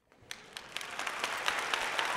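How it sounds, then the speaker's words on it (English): A small live audience at a craft stamping show gives a round of applause, the quick hand claps starting sparse and faint, then building into steady clapping. "I'm going to give you a round of applause for that."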